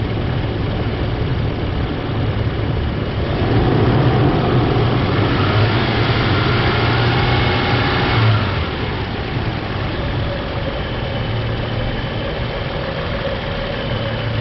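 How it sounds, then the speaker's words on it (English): Car engine held at 2500 RPM during a battery ripple test with an Autel MaxiBAS BT506 tester, a steady close drone that swells a little for a few seconds in the middle before settling back. "Increase RPM to 2500 and keep it for 5 seconds."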